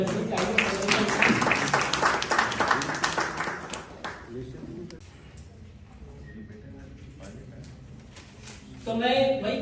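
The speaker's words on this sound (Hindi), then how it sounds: "आप सभी का तालियां भी बजनी चाहिए।" Audience applause at a Hindi book launch event, a loud burst of dense clapping for the first four seconds that fades out, followed by quiet room tone and then speech.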